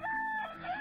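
A rooster crows in the video game Towns, one short, clear cock-a-doodle-doo under a second long, tonal and fairly close, heard alone.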